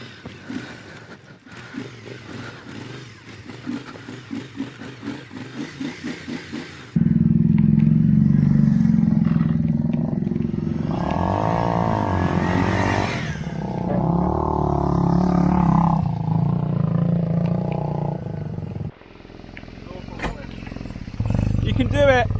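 A Triumph Scrambler works bike roars off-road, its engine loud and sustained with rising and falling revs and clatter, while people talk over it at times.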